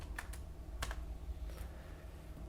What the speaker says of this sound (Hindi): कीबोर्ड चेंज करना पड़ेगा ये।